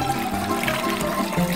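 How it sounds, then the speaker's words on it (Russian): Well water poured into a 30-litre tavern samovar makes a soft, continuous gurgling splash, fairly quiet and brief, with no voices. "это заполнить самовар водой"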